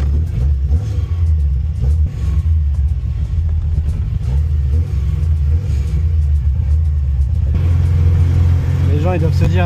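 An old Talbot Samba's engine heard from inside the car, a loud, steady rumbling drone throughout that rises into a rev near the end, with a voice over the engine noise.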